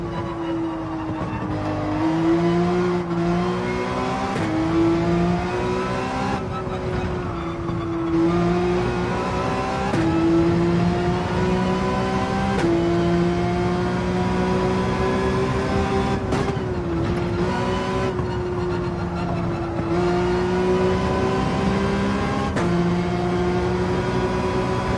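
A Porsche race car engine in Gran Turismo 7 at Spa, loud and continuous, climbing and dipping in pitch through gear changes and throttle lifts as the car power slides, with steady tonal whine throughout.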